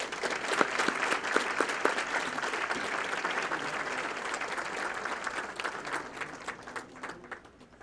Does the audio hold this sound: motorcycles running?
no